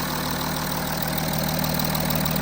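An Audi A6 C7 3.0 TDI diesel engine idles steadily with a newly installed injector, a constant mid-level running drone with no breaks and no voices.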